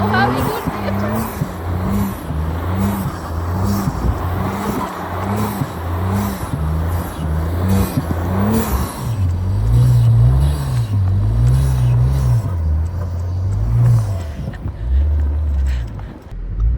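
An Audi RS4 B9 engine revving hard in snow while pulling a truck free, rising and falling in repeated surges, near and loud, with voices talking over it.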